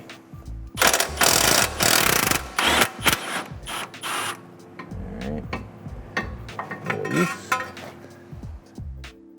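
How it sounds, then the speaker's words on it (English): An impact wrench backs a strut bolt out on a 1990s Mazda NA Miata MX-5: loud buzzing rattling bursts, then shorter bursts and metallic clinks, close up with no speech. "when I'm using an impact like this is just back the bolt all the way out"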